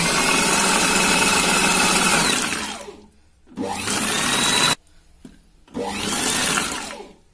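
A food processor churns cream into butter in three loud, steady bursts of whirring motor noise, each cut off by short pauses, with no voices.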